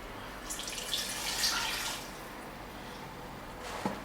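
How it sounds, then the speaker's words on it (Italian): Water poured from a tap into a pot of tomato-based fish couscous sauce in a home kitchen, a soft running splash that swells then fades, ending with a small clink, no talking. "Mettere l'acqua."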